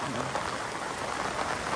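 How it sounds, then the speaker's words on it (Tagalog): Heavy night rain pours down as a loud, steady broadband roar with constant pattering, close by, and a brief voice briefly audible beneath it. "Grabe, ang lakas ng ulan."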